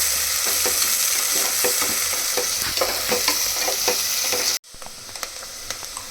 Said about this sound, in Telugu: ఇది కొంచెం గోల్డెన్ బ్రౌన్ కలర్ వచ్చే వరకు ఫ్రై చేసుకోవాలి